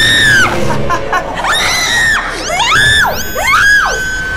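Loud, piercing screams with sweeping, wavering pitch, repeated several times in quick succession, from the Roblox game Rainbow Friends 2, dominating the clip at close range.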